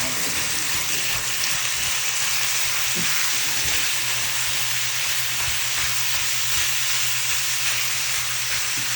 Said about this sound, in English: we're going to cook this together until the ground beef is brown